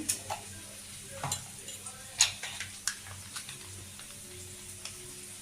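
Soy, chilli and tomato sauces are mixed together in a small container, giving scattered light clinks and taps of a spoon, soft and close, with faint background sizzle.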